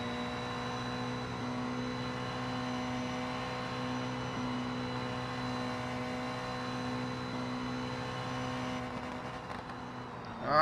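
Race car engine from the BeamNG driving game, a steady sustained tonal drone held at constant pitch throughout, fairly loud and close with no talk over it.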